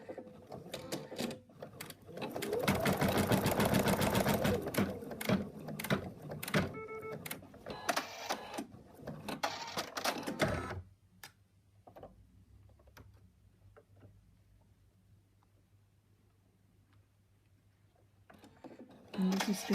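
Embroidery machine stitching a placement line for a teddy bear's arm: a loud, busy run of rapid mechanical needle ticking for about ten seconds, then a quiet lull with faint hum before the machine starts up again.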